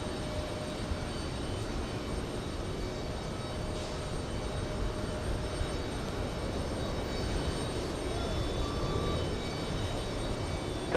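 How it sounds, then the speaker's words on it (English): Delta jet airliner taking off at JFK, a distant, even jet-engine roar that holds steady and fairly faint for the whole stretch, with no voices. "Delta 262 heading to Paris. Lifting off any second."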